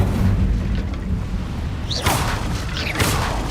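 Two Incendio fire spells cast in Hogwarts Legacy burst out in quick succession, each a bright whooshing flare with a crackling tail over a low ambient game rumble.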